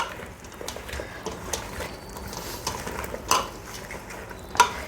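Mango pickle pieces being tossed with oil in a bowl, soft wet shuffling broken by a few sharp clinks of a spoon against the bowl's side, fairly quiet and close, with no speech.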